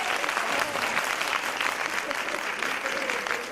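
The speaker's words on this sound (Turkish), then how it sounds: "Alkışlayın Zuhal'i." Seminar audience at an Izmir Migros event applauding a participant, a steady, dense patter of many hands clapping at moderate loudness for several seconds, with a few voices faintly underneath.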